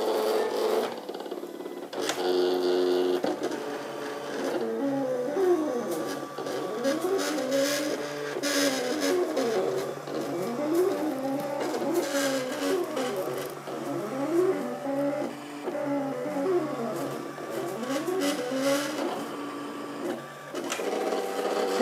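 A Silhouette Cameo cutting plotter cuts shapes, its carriage whirring and stepping in quick, sweeping back-and-forth motor runs, steady and close for about twenty seconds with no talking.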